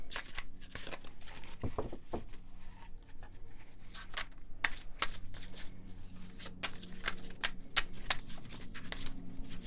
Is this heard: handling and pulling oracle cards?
yes